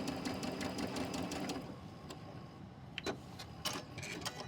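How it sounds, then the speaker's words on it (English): A sewing machine stitches a quarter-inch seam on a quilt block in a rapid, even mechanical run. It then slows to quieter, scattered clicks, with no talking. "sewing a 1/4 inch seam"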